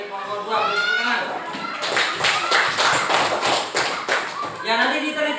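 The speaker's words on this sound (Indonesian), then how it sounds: "Beri tepuk tangan." A classroom of students applauds a student group, a scattered burst of hand clapping that rises in the middle and fades, with children's voices talking before and after.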